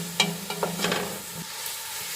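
A spice mix frying in a pan for sauerkraut soup, a steady close sizzle with a few stirring scrapes and clicks near the start.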